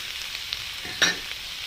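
Finely chopped garlic frying in butter in a pan for butter garlic chicken, a close, steady hiss of sizzling broken by one brief clink of a stirring spoon partway through.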